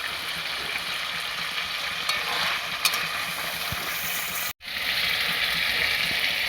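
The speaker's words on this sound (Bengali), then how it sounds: "তো চিকেনটা কিছুক্ষণ এইভাবে কষাবো।" Chicken pieces being stir-fried in a pan, giving a steady close sizzle and frying hiss with light stirring scrapes, broken by one brief silent gap.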